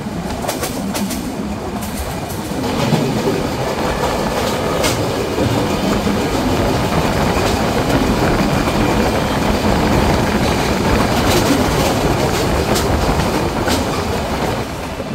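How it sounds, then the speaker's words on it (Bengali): The Silk City Express, running with new Chinese-built CRRC coaches between Kamalapur and Dhaka Airport station, rolls steadily along the rails with a loud continuous rumble and rhythmic clickety-clack of wheels over joints. "সিল্ক সিটি এক্সপ্রেস বর্তমানে চীন থেকে আমদানিকৃত নতুন সিআরআরসি কোচ দ্বারা পরিচালিত হচ্ছে।"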